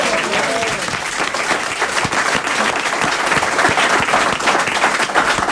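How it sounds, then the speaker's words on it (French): Studio audience applause on a French comedy show, a dense steady wash of clapping that stays loud and close for the whole stretch, with faint voices mixed underneath. "on vous applaudit"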